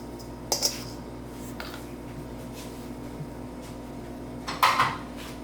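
A tablespoon scooping and clinking sugar in a bowl for apple pie filling, two short metallic clinks with faint scraping between, close against a quiet room hum.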